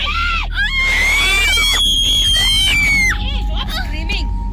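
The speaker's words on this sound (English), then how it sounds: "Stop screaming!" Passengers and children inside a van scream loudly and continuously, shrill overlapping cries filling the vehicle as a bear pulls open the car door right beside them.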